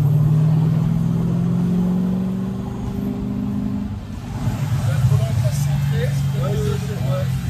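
A Ford GT40 race car's engine drones steadily as it drives toward a dry track, the low rumble dipping around midway and then swelling again, with people talking over it.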